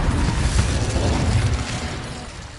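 An Incendio fire spell erupts in a wizard video game, a loud, roaring burst of flame with a thick rumbling low end that holds steady for a couple of seconds before easing off.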